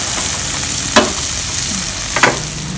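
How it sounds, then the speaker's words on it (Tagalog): Coffee browns in a pan with a loud, steady dry sizzle, and two brief scraping strokes stand out as it is stirred. "Brown natin ng kaunti yung kape"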